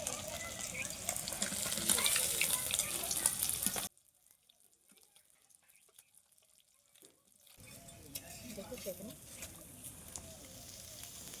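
Katla fish frying in hot oil as the pieces are lifted out: a steady, hissing sizzle that cuts out for a few seconds, then returns more quietly with light bubbling.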